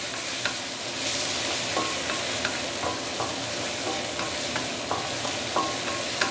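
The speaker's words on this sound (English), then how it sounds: "We are actually trying to make the curry paste right now" Curry paste with curry leaves stir-frying in a claypot, giving a loud, steady sizzle with regular scraping taps of a spatula roughly every half second.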